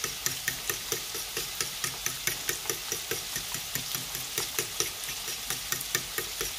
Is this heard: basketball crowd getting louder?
no